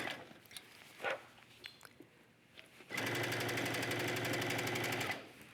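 A sewing machine runs steadily for about two seconds as it stitches around knit legging fabric at a long stitch length, preceded by a few soft handling clicks and rustles.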